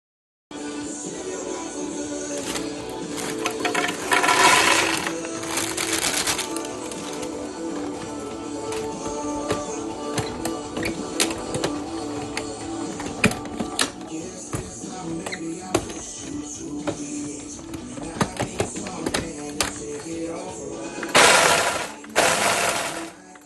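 A Ninja food processor chops peanuts and Teddy Grahams for a cheesecake crust, giving loud, rattling bursts of blade and nut clatter in repeated pulses, with harsh surges near the start and end.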